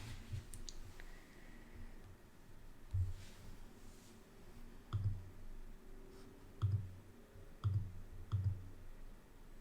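Faint computer mouse clicks, a handful of soft, separate taps spread across a quiet room with no one talking.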